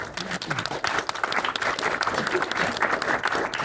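Audience applause at a poetry event, a dense, even wash of clapping filling the room and sustained throughout, moderately loud with no voices on top.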